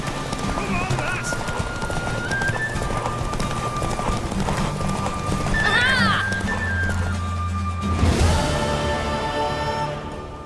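A horse gallops in a race in the video game The Witcher 3, with steady hoofbeats and a neigh partway through. A voice speaks over the hooves and rain patters in the background.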